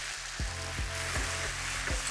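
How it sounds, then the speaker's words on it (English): Broccoli and noodles flash-fry loudly in a hot pan, a constant crackling hiss with a few rhythmic clunks from stirring. "So we're flash frying the broccoli."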